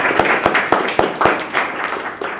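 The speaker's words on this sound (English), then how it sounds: "Let's clap hands for ourselves." A group of robotics students in an Arduino class claps hands together, a run of sharp, fairly regular claps close by, sounding like a small group rather than a large crowd.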